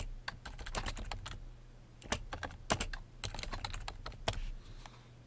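Close, dry clatter of keys typed on a computer keyboard while entering C++ code, coming in quick irregular bursts with short pauses and a few sharper strokes.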